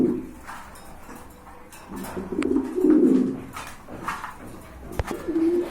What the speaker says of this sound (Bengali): এই যে দেখেন চমৎকার এক জোড়া কবুতর